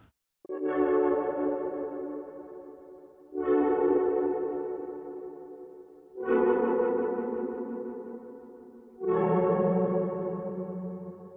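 A pitch-shifted synth track with Echo Boy delay at full mix and a UAD Precision delay, playing four sustained chord swells that each strike and slowly decay into a wonky, echoing texture.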